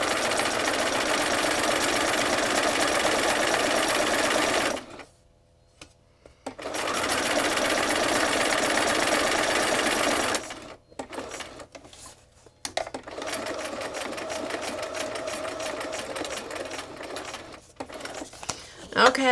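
A sewing machine stitches in long rapid mechanical runs, stopping briefly twice before starting up again, loud and close.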